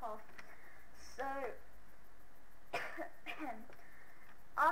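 A few short, raspy coughs close by, spaced out over several seconds in an otherwise quiet room.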